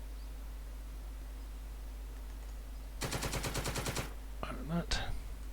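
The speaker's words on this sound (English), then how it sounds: "So the AA machine gun." An anti-aircraft machine gun fires in a war video game, one rapid burst of evenly spaced shots lasting about a second, followed by a couple of sharper single reports over a steady low background hum.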